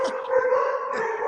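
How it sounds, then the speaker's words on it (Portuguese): Two rescued dogs howl at once indoors, a loud, sustained, wavering howl that stays close and fills the short moment with no talking over it. "Eu tenho 2 cachorros que eu resgatei, que eles estavam na rua"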